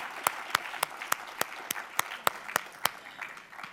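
Sparse, slow applause at an award ceremony: about ten separate, evenly spaced claps, sharp and fairly quiet, with no talk over them.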